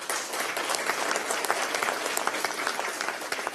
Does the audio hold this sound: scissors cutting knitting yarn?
no